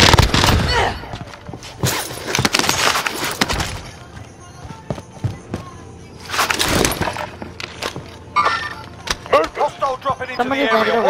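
Gunfire in a military shooter video game: clusters of sharp shots and bursts, loud and close, with quieter stretches between volleys.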